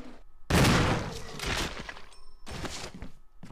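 Several loud, close gunshots ring out in a Resident Evil game, arriving as separate heavy bursts with short gaps between them.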